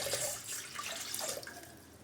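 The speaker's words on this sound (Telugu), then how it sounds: "ఒక 1/2 లీటర్ వాటర్ అయితే పోసుకున్నాను." About half a litre of water pours into a bowl set up for boiling vegetables while Andhra pappu charu is prepared, making a close, steady splashing stream that runs for about two seconds with no talk.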